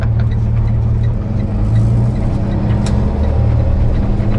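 Steady road roar of a 2016 Jayco Seneca 37FS diesel Super C bunkhouse motor home on the move, a loud continuous engine and tire rumble with a low hum and no talk.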